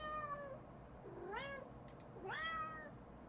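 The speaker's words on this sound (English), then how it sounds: "It tells me that the cat wants attention." A cat gives two distinct, rising-and-falling meows about a second apart, close and clear against a quiet background, calling for attention.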